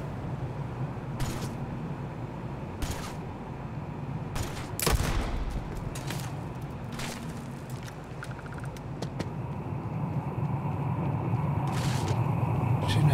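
Gunfire rings out in Starfield combat, bursts of shots scattered across the stretch with a loud sharp crack near the middle, over a steady droning game background.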